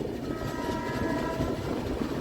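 A Barbil Jan Shatabdi Express runs along the Howrah–Nagpur–Mumbai line, its carriages rumbling steadily and loudly while a sustained horn tone sounds over the running noise.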